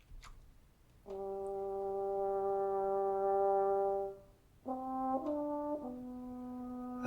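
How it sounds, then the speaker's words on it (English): A French horn picked up on a close microphone plays a long sustained note, then a short phrase of several held tones, warm and clear against near silence. "For the French horn, we had a close mic"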